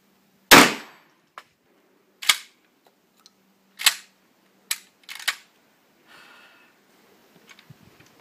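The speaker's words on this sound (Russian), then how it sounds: "Но сейчас попробую чуть пониже выстрелить." Hatsan Escort Aimguard shotgun firing outdoors: about five sharp, loud blasts spaced a second or two apart, each with a short decaying echo, separated by near silence.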